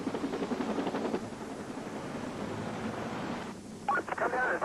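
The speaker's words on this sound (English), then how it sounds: "I immediately bring the helicopter to a hover to take pictures of the arrest." A police helicopter hovers over Denver, its steady rotor and engine drone running throughout beneath radio voices, with a sharper burst of activity near the end.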